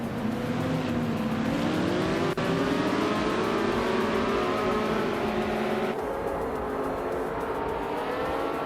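Race cars lapping Wakefield Park, including a vintage 1968 Mackie Mark 12, engines droning and rising in pitch as they accelerate, a dense continuous roar of several cars close by.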